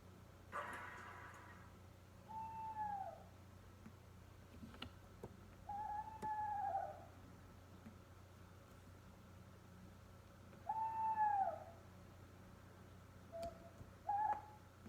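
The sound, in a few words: owl hooting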